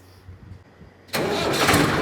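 A farm tractor in a Punjabi village catches and starts, jumping from faint background murmur to a loud, sustained engine roar close by.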